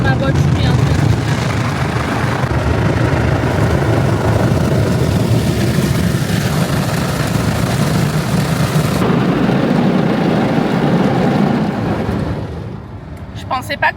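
An automatic car wash machine running on a very dirty car, a loud steady roar of spraying water and motors filling the space, continuous and close, then easing off near the end.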